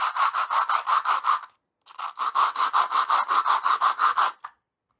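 A copper pipe rim rubbed back and forth on sandpaper laid on a flat surface, about a dozen even, close scraping strokes in two bursts with a short pause between, loud and with no talk.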